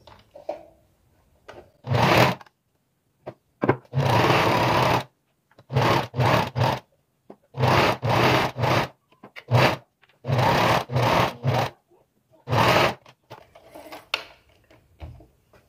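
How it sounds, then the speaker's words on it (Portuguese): Sewing machine running in repeated bursts of a few seconds each, joining the fabric pieces of a vintage apron, the stitching whir starting and stopping with short quiet gaps between runs. "vou passar a costura unindo esses tecidos"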